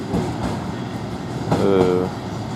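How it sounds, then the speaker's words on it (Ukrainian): Freight train wagons rolling past on rails, a loud continuous rumble with rhythmic clanking and a brief metallic squeal, close by and without speech. "товарний поїзд"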